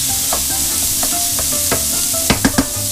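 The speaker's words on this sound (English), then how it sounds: "Drop in that venison. Stir it around a little just to get it oily." Venison pieces stirred and searing in hot, lightly smoking butter and oil, giving a steady sizzle broken by several stirring scrapes and a few sharp clacks of the utensil near the end.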